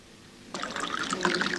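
Rakija pours into a glass in one steady, close trickle that starts abruptly after a short quiet moment and runs to the end, with no voices.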